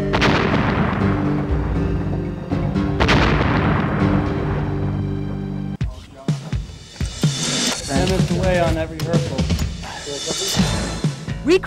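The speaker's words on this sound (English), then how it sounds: "Recreating the effect of a hand grenade explosion demands three distinct and definitely dangerous devices." A stunt hand grenade explosion effect bursts out as a string of loud, booming blasts and sharp bangs, with a sudden cutoff midway before further crackling bursts and debris-like noise continue close and forceful.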